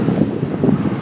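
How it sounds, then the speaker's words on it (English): Wind buffets a microphone on an exposed stretch of Valentia Island in Ireland, a steady low rumbling roar with gusty swells and no voices. "it's been very windy on the island so far, very exposed"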